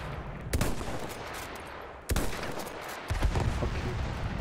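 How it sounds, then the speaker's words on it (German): Sniper rifle shots ring out in a video game, two sharp, loud cracks about one and a half seconds apart over steady background game noise, followed by a rising rumble. "Ist schon wieder ein Sniper, der auf mich schießt."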